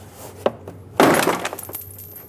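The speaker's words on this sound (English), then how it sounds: "Go around the whole door, popping these clips." Plastic door panel clips pop loose from the door of a Chevrolet Express 2500 van, a sharp crack followed by a louder snapping burst with brief rattling, close and loud with no talk.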